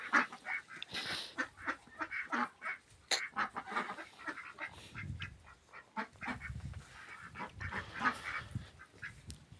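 A flock of domestic ducks with a drake quacks and honks continuously and close by, with overlapping harsh calls rising and falling in a busy, noisy jumble.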